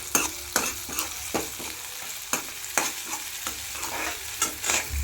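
Spices with turmeric and chilli frying in a pan for methi bhaji, stirred with a utensil that scrapes in regular strokes about every half second over a continuous sizzle, close up with no voices.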